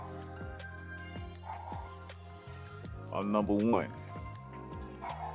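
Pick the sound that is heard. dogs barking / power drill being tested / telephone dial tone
dogs barking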